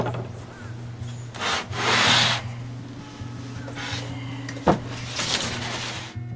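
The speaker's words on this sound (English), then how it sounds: "this belt sander's got 60 grit. He'll rip right through this wood like it's nothing" A 60 grit belt sander shaping a wooden bullroarer, giving rough rasping and rubbing strokes of varying loudness over a steady low motor hum, with a few sharper knocks between passes.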